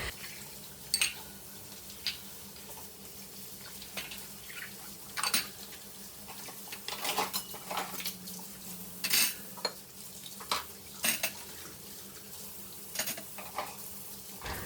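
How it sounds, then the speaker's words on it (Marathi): Kitchen utensils being scrubbed and washed, with intermittent clinks and scraping strokes of pots and pans over a soft background of running water, close and irregular. "मी सकाळी लागणारी सगळी जी भांडी आहेत ना ती घासून घेते"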